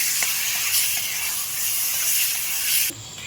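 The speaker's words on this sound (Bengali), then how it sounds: "সবজি এটাকে আমি ভালো করে করে একটু ভেজে নেব" Mixed vegetables with a little chili powder frying in a kadai for veg momo filling give a steady, close broadband hiss and sizzle with a few faint clinks, then the sizzle drops away abruptly near the end.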